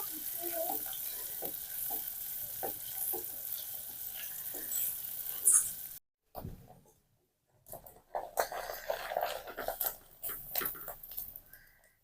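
Egg pieces and other ingredients frying in a pan in village cooking, with a soft steady sizzle and light stirring clicks, then a short pause and busier crackling and scraping.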